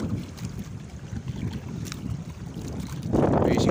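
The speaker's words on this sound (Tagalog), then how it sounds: "Nagsasagwan na po kami papunta sa laot mga ka-fishing." Small fishing boat paddled out to open sea for anchovy fishing, with steady water and wind rumble throughout and a louder, closer surge of splashing and rushing noise near the end.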